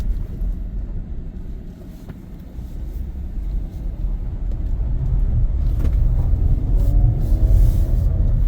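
A 2015 Ford AWD Police Interceptor Utility with a 3.7L engine and 94k miles driving on the road, a steady low engine and road rumble heard from inside that grows gradually louder and fuller toward the end.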